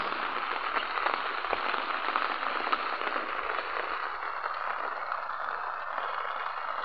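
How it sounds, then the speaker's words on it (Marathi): Steady rain falls on a tomato field, a dense, even hiss of drops that stays constant and moderately loud throughout, with no voices. "पाऊस चालू आहे"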